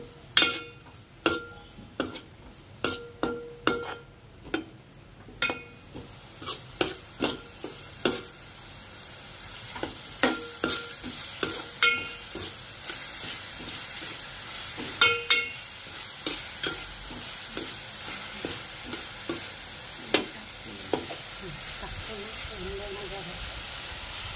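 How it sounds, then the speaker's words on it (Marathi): A tomato frying in oil in a pan, stirred with a utensil that raps the pan in a steady series of sharp clicks over a soft sizzle, close by, with someone talking at times. "एक टोमॅटो घेतले ते चांगलं परतवून थोडं तेल अजून टाकते"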